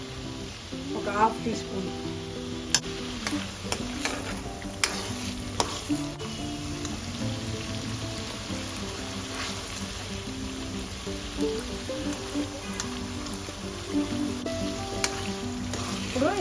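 Bitter gourd pickle ingredients fry and sizzle in hot oil with turmeric while being stirred, a steady close crackle with occasional clinks, under a voice speaking Telugu.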